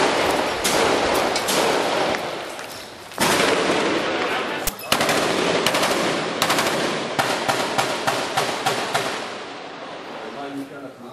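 Sustained automatic gunfire from a street battle in Benghazi, Libya, with rapid bursts and sharp individual shots cracking through a dense, reverberant din, close and loud throughout with only brief lulls.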